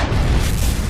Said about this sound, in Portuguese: mas talvez a explosão de uma supernova